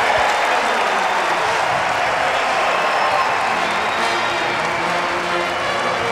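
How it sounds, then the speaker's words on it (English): A college basketball crowd in an arena erupts after a buzzer-beater, with sustained loud applause, clapping and cheering that carries on for several seconds. "Jordan Daniels gets a rise out of this County Forum crowd as he beats the buzzer"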